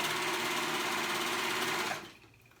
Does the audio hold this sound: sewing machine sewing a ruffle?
yes